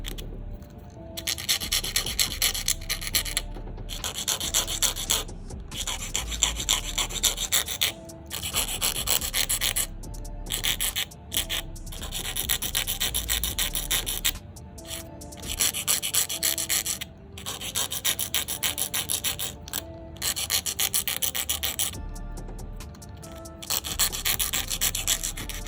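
Nail file shaping acrylic tips on a practice trainer hand, a close rapid rasping scrape in quick rhythmic bursts with short gaps, steady and continuous throughout.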